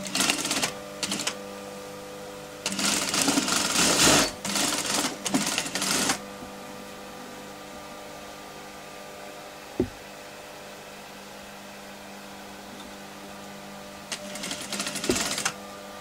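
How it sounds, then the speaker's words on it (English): A domestic sewing machine stitching in several loud, rapid bursts on trouser fabric, with long quiet pauses between runs and a couple of sharp clicks. "Just checking to see that my machine is stitching properly, because it sounds funny."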